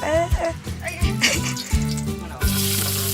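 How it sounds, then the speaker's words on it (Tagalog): Chopped garlic sautés in oil in a pan over a wood-fired cooking fire in a rural provincial kitchen, a loud steady sizzle that swells when stirred, with people talking over it. "So magigisa muna tayo. Ng bawang."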